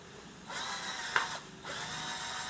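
A power drill driving screws through pieces of wood, two sustained whirring bursts separated by short pauses, close and fairly quiet.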